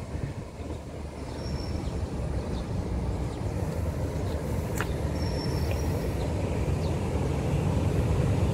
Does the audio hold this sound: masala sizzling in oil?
no